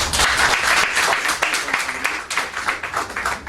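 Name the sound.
audience applause after the speaker asks for loud cheering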